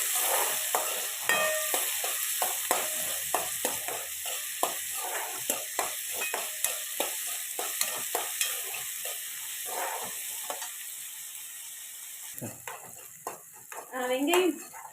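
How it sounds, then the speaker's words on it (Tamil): Shallots and green chillies sautéing in a pan for chicken curry, a steady close sizzle broken by frequent rhythmic scrapes and stirs of a spoon against the pot, with a louder clatter near the end. "கடுகு நல்லா பொரிஞ்சோடனே நான் வெட்டி வச்ச சின்ன வெங்காயம், பச்சை மிளகு போட்டுக்கிறேன்"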